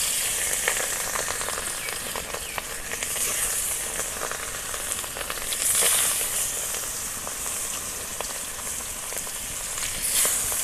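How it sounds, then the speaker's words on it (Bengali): Pangas fish frying in mustard oil in a karahi pan over a lit stove, giving a steady, fairly loud broadband sizzle with crackling pops throughout, no voices. "এবার কড়ার মধ্যে আমি সরিষার তেল দিয়ে দেব মাছটা ভাজার জন্য।"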